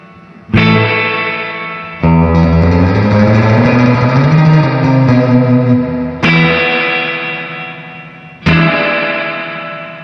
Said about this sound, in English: It's got this cool reverb.